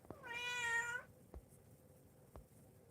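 A house cat meows for food in one long, clear, close meow lasting about a second, followed by quiet with a couple of soft thumps.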